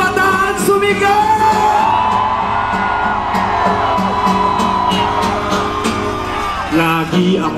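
A crowd of young people at the Trillion Peso March rally on EDSA yells and whoops loudly and continuously, a dense wall of shouting with music running beneath it throughout.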